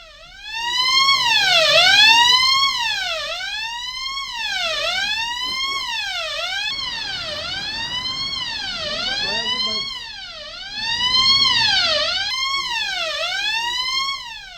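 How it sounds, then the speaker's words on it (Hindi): Bank alarm siren at a State Bank of India branch, set off when rats chewed through a wire, wails in repeated rising and falling sweeps, loud and steady for the whole stretch with a brief dip near the middle. "इसमें एक अलार्म बजने की आवाज़ आई"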